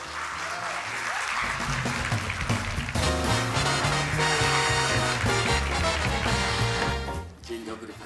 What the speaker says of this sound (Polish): Poproszę o gorące brawa.